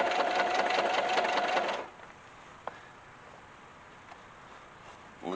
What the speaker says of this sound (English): Looks like stitching just fine, double checking it.